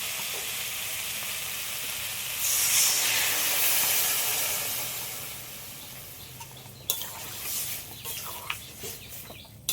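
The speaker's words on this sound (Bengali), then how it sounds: "এবার আমি জল দিয়ে দেবো।" Water poured into a pan of vegetables frying with green chilli and cumin gives a loud hissing sizzle that swells about a third of the way in, then eases into softer crackling with small pops, with no talk.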